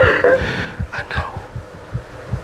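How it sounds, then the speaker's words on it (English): A heartbeat is picked up through a lapel microphone pressed between two people hugging on a reality TV show, a muffled, regular low thumping pulse that repeats about every quarter second under brief rustle. "So I think because they're hugging, it's pressing the microphone and you could hear at least one of their heartbeats."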